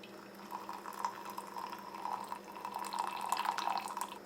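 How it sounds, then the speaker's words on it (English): Moka pot espresso trickles from the spout into a mug, a thin, steady liquid stream with faint drips, quiet and close, building slightly toward the end. "you are good to pour the coffee out into your mug"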